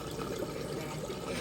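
Water drains steadily from a saltwater reef fish tank through filters and a pipe into a sump, a continuous close rushing and trickling sound with no speech over it.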